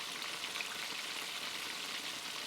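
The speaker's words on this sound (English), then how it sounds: "We'll let that fry for a couple of minutes until it's golden brown" Breaded pork loin fries in hot oil at about 290 degrees with a continuous, dense, even sizzle, close by, with no talking.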